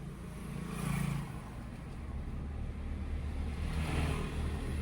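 A Hyundai i20 pulls away slowly in second gear as the clutch is eased out without throttle, giving a low, steady engine hum with faint swells heard from inside the car.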